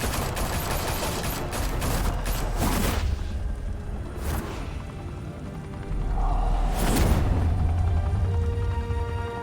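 Heavy gunfire bursts in a Batman: The Telltale Series shootout, loud dense volleys with booming impacts and whooshes, pausing briefly before another intense barrage.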